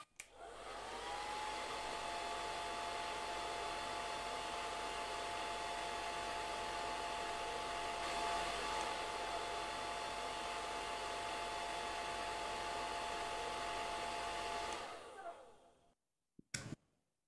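A hair dryer blows on fresh paint on a scale armour model, a steady close roar with a high whine that runs for about fifteen seconds, then clicks off and falls silent.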